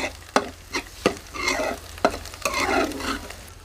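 Onion masala frying in a pan for a lauki chana dal, with a soft sizzle beneath repeated scraping strokes of a spoon stirring it, close up and without speech.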